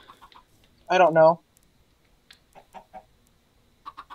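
A single short cluck from a video-game chicken stands out, with quiet speech before and after it.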